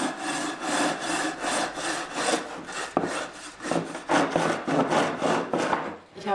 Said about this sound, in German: Wir sägen uns jetzt ein Stück Gips zurecht